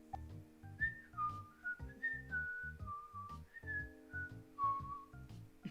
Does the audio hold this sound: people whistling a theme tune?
yes